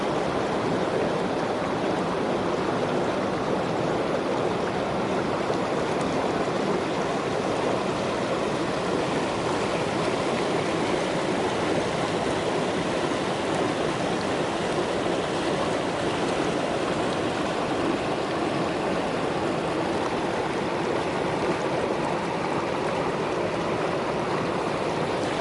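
River water rushes steadily over rocks midstream, a dense continuous hiss and roar, close and loud, unbroken and with no voices over it.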